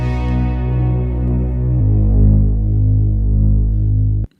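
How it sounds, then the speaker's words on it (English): A thick, buzzy saw-wave synth bass with resonant filtering and heavy drive drones loudly with a gritty, distorted edge, shifting lower partway through before cutting off abruptly. "It's just a very basic saw wave with some nice resonance filter applied and a lot of drive"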